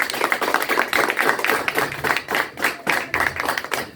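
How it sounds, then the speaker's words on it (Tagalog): A congregation claps loudly for the Lord at a Thanksgiving Day church service, a dense run of steady, rhythmic hand claps filling the whole stretch. "Pwede mo mong palakpakan ng Panginoon. Yung malakas ang palakpak."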